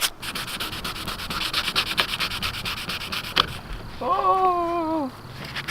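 A Nissan 350Z body panel is hand sanded toward bare metal with 220-grit sandpaper. Quick rhythmic rubbing strokes come close and loud for several seconds, then a short, whine-like voice breaks in near the end.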